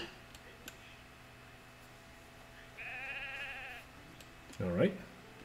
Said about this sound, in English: And there's few sheep here, unfortunately.